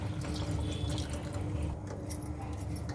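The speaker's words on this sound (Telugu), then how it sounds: "కొన్ని వాటర్ తీసుకొని ఇలా పోసుకోవాలి." Water is poured into a pot of Telangana-style mutton curry, a steady soft splashing and trickling that runs continuously at low level without talk.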